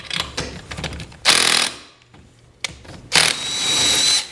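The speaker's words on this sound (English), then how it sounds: "The first thing we want to do is remove the bolts" A power tool removes the bolts holding a broken garage door spring, with loud, sharp bursts of whirring and rattling in three separate runs, close up, with a hissing, buzzing tail at the end.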